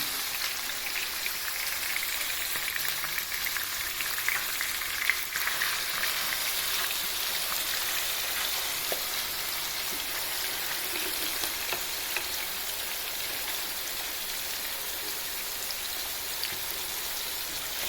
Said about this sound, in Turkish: Evet arkadaşlar gördüğünüz gibi ciğerim hafif kızarmaya başladı